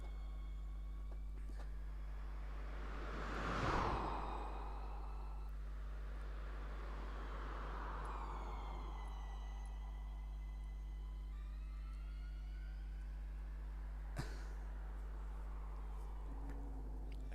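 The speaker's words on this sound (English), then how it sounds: "I can hear the telltale signs of an electric car winding up ahead" Electric race car motors whine up in a racing video game, rising tonal sweeps passing near then trailing off, with a broad swell around four seconds and a steady low hum underneath.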